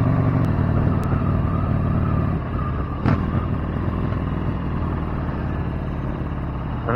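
A motorcycle engine runs on the road, a loud continuous rumble that eases slightly partway through, with wind noise and a brief knock around the middle.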